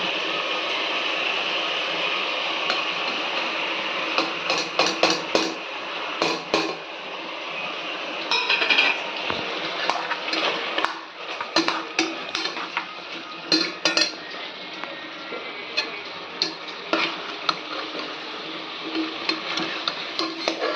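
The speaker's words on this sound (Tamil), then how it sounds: "இப்போது இந்த மசாலா எல்லாமே ஒன்றா சேர்த்துடலாங்க" A spoon scraping and clinking against a metal pan as ground spice masala of pepper, poppy seed and cardamom is stirred together for mutton gravy, with steady irregular taps and scrapes over a low background hum, no voices.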